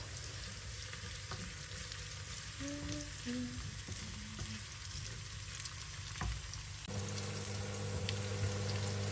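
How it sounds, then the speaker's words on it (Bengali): Onion and garlic sizzle in oil as a tempering for beef tripe, a quiet, continuous frying hiss over a steady low hum, with no voices. "পেঁয়াজ আর রসুন দিয়ে বুড়িটাকে ফোড়ন দিয়ে দিব"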